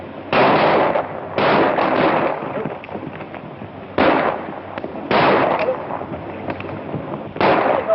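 Rifle shots in a 1935 film soundtrack come as a series of loud, crackling bursts, four or five spaced a second or two apart, each with a short ragged decay.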